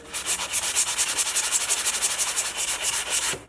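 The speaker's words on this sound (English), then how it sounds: "after using that sandpaper, you can see right here I have a high spot where my plug welds were" Sandpaper worked by hand over rusty sheet metal on a Jeep Wrangler YJ body: a steady, rapid rhythm of close, loud, raspy back-and-forth strokes, uninterrupted, with no voices.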